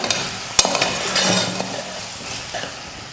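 Tomatoes and sour raw mango sautéing in a pan for sambar, a steady soft sizzle with a few sharp clinks and scrapes of a utensil stirring against the pan.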